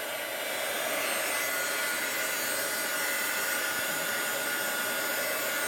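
Continuous loud whoosh of a heat embossing gun blowing over an art journal page, a steady broadband hiss that runs without a break.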